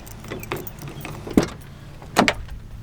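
A few short jingles of truck keys, close by, in two brief bursts over faint background noise.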